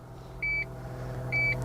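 Two short electronic warning chimes inside a 2019 Lexus LC 500h, each a clear steady tone lasting about a fifth of a second, spaced nearly a second apart over a quiet low cabin hum.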